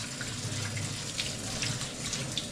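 Water runs steadily from a tap while something is washed beneath it in a Kenyan home kitchen, a constant close rush with faint splashing changes and no speech.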